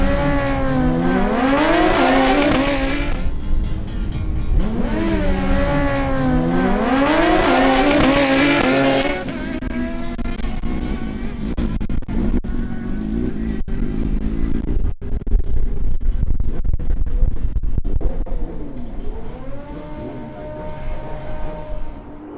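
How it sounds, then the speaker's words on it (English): Suzuki GSX-R1000 and Hayabusa sport motorcycles race at speed, with two loud rising engine passes sweeping by up close, followed by quieter, more distant engine drone and sharp clicks. "The next duel is between Cesar Camacho on his other Suzuki GSX-R1000, marked with number 308"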